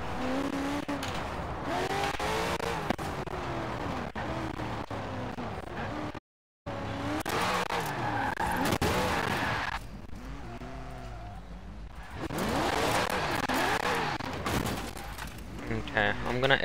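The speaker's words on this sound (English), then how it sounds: "Rips mad skids" Car tires skidding and squealing while drifting in the Forza Horizon 4 racing game, with a revving engine and long wailing screeches. One brief dropout breaks the sound partway through.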